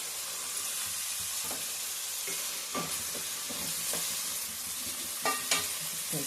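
Green peas frying in a pan for vegetable rice give a steady, soft sizzle, with occasional light stirring taps and scrapes against the pan throughout.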